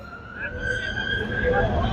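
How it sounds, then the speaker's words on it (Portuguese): Emergency vehicle siren on a London street, a steady wailing tone sustained under ongoing traffic and street noise, moderately distant. "Passou uma sirene para um lado"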